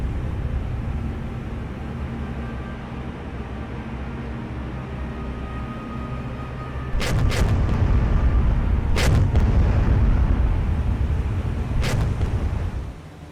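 Warship guns fire in the naval combat game War on the Sea: a low engine and sea rumble swells, then several sharp, loud gun blasts crack out in a quick pair and two later single shots.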